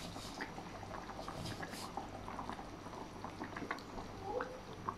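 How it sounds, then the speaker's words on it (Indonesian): Asam pedas fish broth with pickled mustard greens boils in a pot, a steady close bubbling and popping that carries on evenly throughout with no talking. "kuah dah mendidih"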